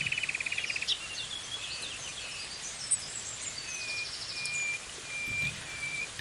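Small birds chirp in a quiet wood, a rapid repeated call at the start followed by scattered faint tweets and trills against a soft hiss of background noise.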